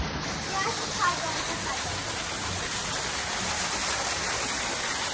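A waterfall feature in a tiger enclosure at a zoo sends a steady, dense rush of falling water, heard continuously and fairly loud, with people talking now and then nearby.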